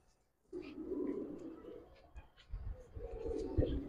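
Pigeons coo in a low, soft, rolling murmur while they are handled. Handling bumps and a rustle break in partway through, and the sound is fairly quiet and close.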